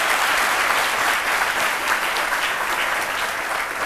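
Sustained applause from a live studio audience, many hands clapping in a dense, even wash at steady loudness throughout, close and full with no talking over it.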